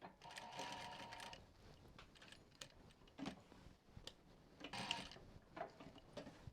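A sewing machine stitching fabric into a boxed zip pocket, running in short, fairly quiet bursts separated by brief pauses and small mechanical clicks.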